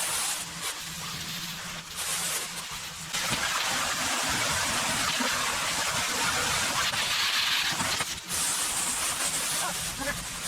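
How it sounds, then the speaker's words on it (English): Water sprays with a broad hiss in a greenhouse, coming in long bursts that stop briefly and start again, fairly close. "I'm going to be very mindful about spraying water where he's at"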